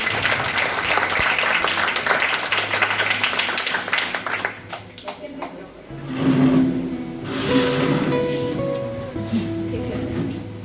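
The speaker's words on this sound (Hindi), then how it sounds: "सर के स्वागत के लिए एक बार जोरदार तालियां" Loud applause from a gathered audience welcoming a guest at a school children's cabinet election event, dense clapping sustained for several seconds before easing, with speech and crowd noise mixed in.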